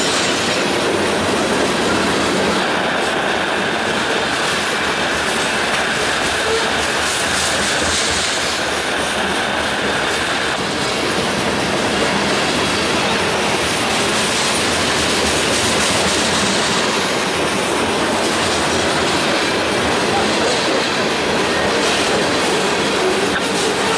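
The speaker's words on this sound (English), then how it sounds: "this will be the kind of the Big Sandy train's first one of the day" A Big Sandy train rumbles by on the rails in West Virginia or Kentucky, a loud, dense, continuous roar and rattle of railcars that holds steady and close for the whole stretch, with no voices.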